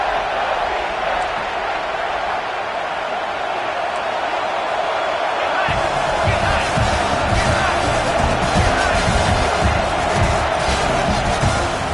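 Football stadium crowd roaring and cheering on a big third down, a dense, steady wall of noise that swells louder about halfway through, with a commentator talking over it.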